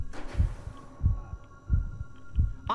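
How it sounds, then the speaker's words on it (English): A loud, deep heartbeat in the video game Inside The Backrooms, four heavy thumping beats at an even, slowish pace over a faint hum, with no talking. "The heartbeat loud as fuck over here."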